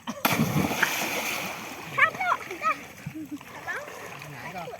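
Water splashes and sloshes repeatedly as children bathe in a village pond, with a loud burst of splashing at the start and children's voices chattering over it.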